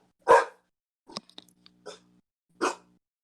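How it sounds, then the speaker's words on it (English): A dog barks four times, a loud close single bark followed by a few short, softer yips and one final sharp bark, with silence between them. "My dog just scared the fuck out of me."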